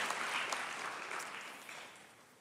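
A church congregation applauds together, a dense wash of many hands clapping at a moderate distance that slowly fades over a couple of seconds, with no voices over it.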